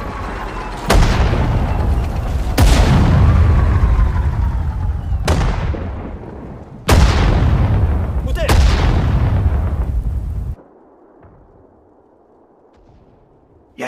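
Booming artillery blasts and gunfire in the WWII strategy game Sudden Strike 4, Pacific War campaign at the Battle of Saipan; five loud, close explosions ring out at irregular intervals, each decaying into rumble, before a quiet low hum remains.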